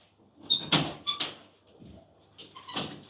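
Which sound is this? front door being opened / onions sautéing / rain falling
front door being opened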